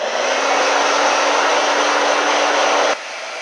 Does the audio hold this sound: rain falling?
no